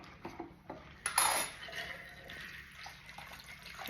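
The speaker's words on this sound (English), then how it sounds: "Pour it into your frosty glass." A shaken martini of gin and vermouth poured from a shaker into a frosty glass: a brief bright metallic clink and splashing pour near the start, then soft liquid trickle and faint clatter fading out, with no talk.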